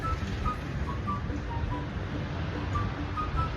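The sea washes onto the shore at a seaside walking spot in a continuous, moderately loud surf roar mixed with wind buffeting the microphone. No one is speaking.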